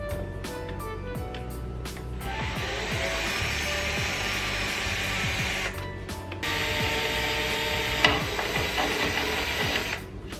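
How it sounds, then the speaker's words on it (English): A drill bores a small starting mark into the body panel of a Honda S2000 during a side strake install, a steady whirring run that pauses briefly and resumes, close and fairly loud. "Just going to drill a little bit just to make a mark,"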